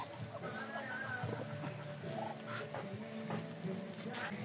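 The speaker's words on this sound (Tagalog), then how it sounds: "Uwi na Po ang kanilang mga alagang bibi." Pet ducks being herded home on a farm field, with soft, steady clucking and quacking from the flock throughout under a faint outdoor background, no clear talk.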